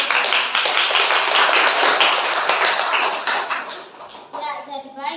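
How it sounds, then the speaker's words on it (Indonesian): A classroom of students claps together for about four seconds in a dense, loud burst of hands, which then fades as a voice begins speaking. "Berikan tepuk tangan dulu."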